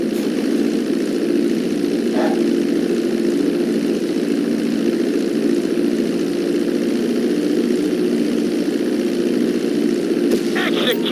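Propeller plane engine in the GTA 5 flight school, a steady droning hum holding at an even, loud level throughout, with a brief higher whine near the start and light clicks near the end.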